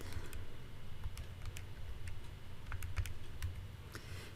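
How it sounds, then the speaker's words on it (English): Typing on a computer keyboard in a lecture setting, a run of quiet, irregular plastic key clicks and taps over a low background hum, close and faint, with no talking. "And I'll type that up."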